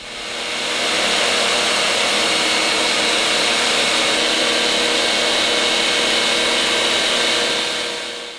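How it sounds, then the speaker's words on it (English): A blast track machine grit-blasts a concrete floor with a loud, steady, broadband roar that fades in and out at the ends. "Barry Fisher will show us how to run a blast track machine"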